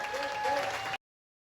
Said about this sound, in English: A big round of applause for Fat Boys.